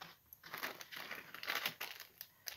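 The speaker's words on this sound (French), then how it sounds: "Je viens chercher donc des stickers. Je vais décrocher une page," A page of stickers is peeled and detached for a vellum paper craft project, giving close, crinkly paper rustling and short tearing crackles in uneven bursts.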